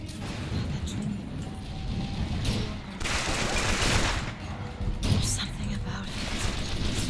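Gunfire in the first-person shooter BioShock Infinite, with loud bursts of shots and crashes sounding in clusters, one near the middle and another later, under a player's talk and a constant game background.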